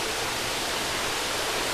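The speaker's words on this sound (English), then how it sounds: "So the water flows down," Steady broadband rush of water flowing through greenhouse plumbing fed by 55-gallon vats, a continuous even current with no breaks and no talking.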